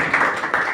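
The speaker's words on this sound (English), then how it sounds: "May you please clap for yourself." Audience clapping at a nursing school presidential debate, a brief dense patter of many hands, close and loud, no voices.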